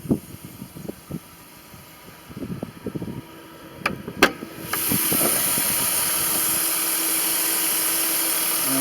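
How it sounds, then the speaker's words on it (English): A 2001 Dodge Intrepid ES with a 3.2-litre V6 idles steadily, and a broadband hiss and engine hum rise and hold after a few knocks and clicks. "Look at the engine again with it running."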